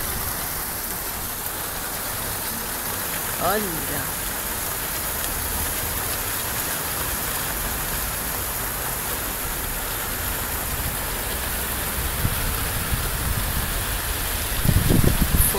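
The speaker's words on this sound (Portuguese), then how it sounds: "Aumentando a chuva agora neste instante." Heavy night rain pours steadily in São Vicente, a dense, even hiss of drops on surfaces that holds throughout, with a brief murmured voice and faint rustling near the end.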